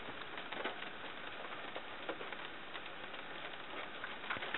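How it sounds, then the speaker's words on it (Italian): Heavy rain pours down outdoors in a steady, dense hiss of patter that stays constant and fairly faint throughout, with no voices over it. "Non piove. Sta soltanto diluviando."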